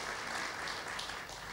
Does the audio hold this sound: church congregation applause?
yes